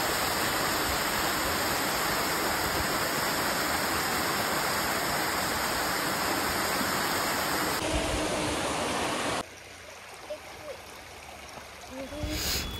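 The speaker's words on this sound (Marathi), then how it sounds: "इथे आता आम्ही धबधबा क्रॉस करताना" Steady broadband rushing of water from a small monsoon waterfall near Pune, India, loud and continuous, dropping to a quieter flow near the end.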